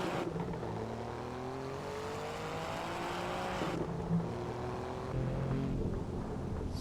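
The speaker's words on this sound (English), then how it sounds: "I have heard better sounding cars though." An Alfa Romeo racing car in the Assetto Corsa driving game runs its engine steadily, with the pitch climbing through the gears in a continuous revving drone and a shift near the middle, with no voices.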